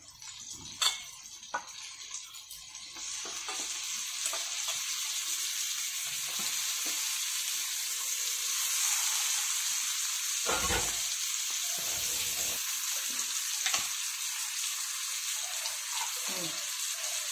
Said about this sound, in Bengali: এবারে মাংসগুলোকে ছেড়ে দিব।